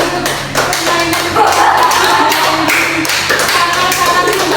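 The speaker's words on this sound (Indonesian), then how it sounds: "tepuk tangan untuk permainan" A crowd claps in a dense, continuous patter of applause after a group counseling role-play, loud and close, lasting the whole stretch with no clear speech.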